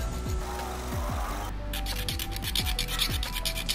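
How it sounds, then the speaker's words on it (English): Hand file rasping the edges of a freshly drilled hole in a switch mounting panel, steady repeated scraping strokes with a rough, gritty texture, close and moderately loud throughout. "Smoothen the edges using the file"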